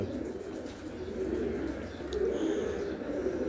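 Racing pigeons coo softly and steadily in a loft, a low continuous murmur of several birds with faint chirps, no speech.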